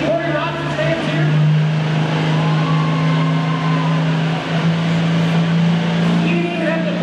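A pro stock tractor pulls at Gordyville, Illinois, its engine droning loud and steady with a sustained low roar and slight pitch shifts, with an announcer talking over it.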